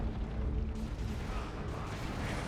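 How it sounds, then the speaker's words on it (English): Manticore artillery strike in the real-time strategy game Dawn of War 2, a rumbling barrage of low booms and blasts rolling on continuously, fairly faint and dense for a few seconds. "Big Manticore strike wipes out a Havoc squad instantaneously."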